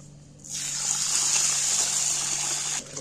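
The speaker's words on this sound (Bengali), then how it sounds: "প্রথমেই আমি আতপ চালটা জল দিয়ে দিচ্ছি।" Water pours steadily from a tap onto raw atap rice in a bowl, a continuous close gushing rush lasting under three seconds that starts and stops abruptly, with no talk over it.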